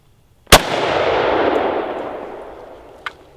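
A single sharp, loud .50 caliber rifle shot fired at a pumpkin target outdoors, followed by a long rolling echo that slowly fades, with a fainter second crack near the end.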